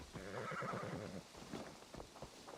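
A horse in Assassin's Creed Valhalla gives a loud, quavering neigh lasting about a second, followed by a few soft hoof clops and faint ambient noise.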